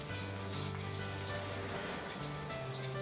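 Chicken cutlet, skin side down, deep-frying in a small amount of oil, giving a steady, dense crackling sizzle that holds without pause, close and even throughout.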